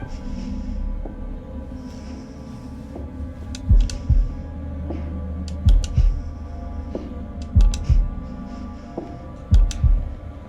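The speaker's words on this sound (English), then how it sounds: "It's heartbeat time." Heartbeat sound effect from the horror video game The Devil In Me, a slow throbbing pulse of deep double thumps repeating every couple of seconds over a low droning hum, with faint high ticks scattered above.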